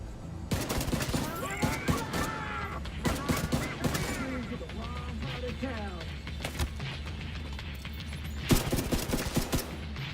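Loud, rapid gunfire in a gunfight from the video game The Division 2: repeated bursts and single shots layered over each other, with voices talking amid the shooting.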